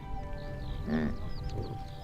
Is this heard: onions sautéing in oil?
no